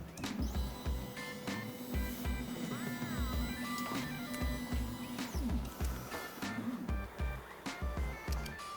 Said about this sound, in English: we're gonna go ahead and do the bed leveling on the machine